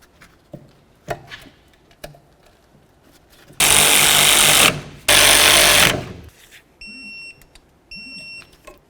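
Power tool whirring as slider bolts are run in on a 2007-12 Volvo S40 brake caliper, two loud bursts of several seconds each separated by a short gap, followed by quieter clicks and beeps.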